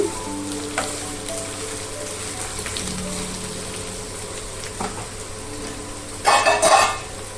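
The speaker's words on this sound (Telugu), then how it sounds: "మనం కట్ చేసిన కాకరకాయ ముక్కలు వేసేసుకుందాం పచ్చి కాకరకాయ వేసుకుంటున్నానండి ఏం ఉడకబెట్టుకోవట్లేదు ఒకసారి అంతా కలిపేసుకుందాం" Raw bitter gourd pieces sizzle and fry in a pan, a steady crackling hiss with occasional stirring scrapes and a louder burst of spattering near the end, over a low background hum.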